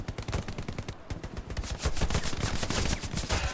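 Rapid bursts of automatic gunfire crack and rattle throughout a Hell Let Loose battle, dense overlapping shots that grow louder and more sustained toward the end.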